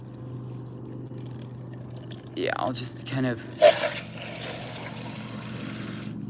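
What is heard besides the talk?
garden hose spraying water to rinse a cup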